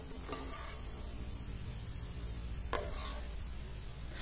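Onions fry in a pan for ghee rice, giving a soft, steady sizzle at low volume with a few faint scrapes of stirring.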